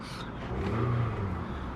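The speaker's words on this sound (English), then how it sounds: "Listen to the engine." Car engine running at idle nearby, a steady low rumble that swells slightly in the middle.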